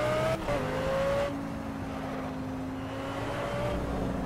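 Race car engine in a racing video game, a steady droning whine that shifts pitch as gears change, with a brief higher tone near the start, loud and continuous with no talk over it.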